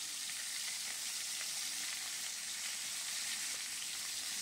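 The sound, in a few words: catla fish heads frying in oil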